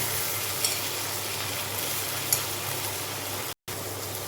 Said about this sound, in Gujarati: ડુંગળી થોડીક વાર તાતળી લઈશું